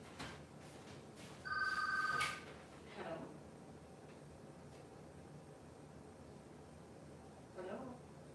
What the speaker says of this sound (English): I'm gonna get the phone.